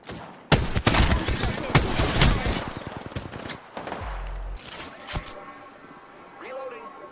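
Gunfire in the video game Apex Legends, rapid bursts of automatic fire up close for a few seconds followed by single shots, impacts and game effects, with a voice speaking briefly.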